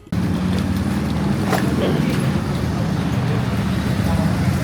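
Busy street traffic in Hanoi, Vietnam: a steady, dense roar of engines and road noise that starts abruptly and stays loud and unbroken, with a faint voice beneath it.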